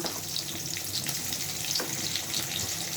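Onion paste frying in a pan for a spiced beef-tongue curry, a steady, moderate sizzle with faint scrapes and a brief click, no talk.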